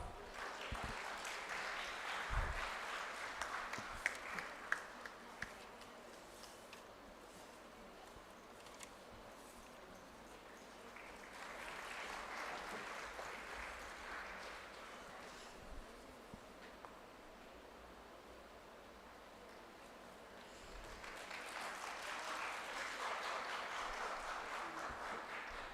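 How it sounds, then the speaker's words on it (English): Audience at a dental conference on orodental care applauds in three soft, distant waves of clapping, each swelling and fading, with quieter stretches between. "Can we have a round of applause?"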